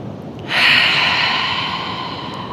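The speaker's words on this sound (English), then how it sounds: "Deep breath out through the nose or the mouth, let it go." A single long, deep exhale through the nose or mouth during a slow breathing exercise, close and fairly loud, rushing in suddenly and fading gradually with no talking.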